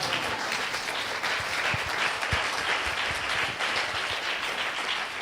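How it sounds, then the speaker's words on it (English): An audience at a pastor's talk on relationships breaks into sustained applause, dense overlapping clapping from many people with a few sharper individual claps standing out. "Oh, that's a good point to clap."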